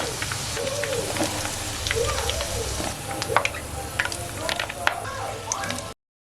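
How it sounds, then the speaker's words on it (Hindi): Okra slices fry in hot oil in a pan for bhindi salan: a steady, close crackling sizzle that runs without a break, with small stirring and scraping noises through it and a few brighter pops. "इसी तरह बाकी की भिंडी को भी हम फ्राई कर लेंगे।"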